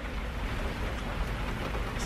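Rain falls outside on a chilly spring day as a steady, dense hiss of drops hitting surfaces, continuous and fairly close, with no talking.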